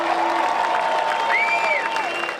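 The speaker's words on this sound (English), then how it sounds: "A big crowd took in the celebration to welcome the team." A large crowd applauds and cheers steadily at a celebration welcoming a team, a dense continuous wash of clapping with some tonal whistling and shouts rising through it.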